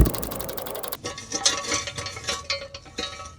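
A jack raising the passenger side of a trailer gives off a busy run of metallic ratcheting clicks and mechanical rattles, close and fairly loud, after a brief low rumble at the start.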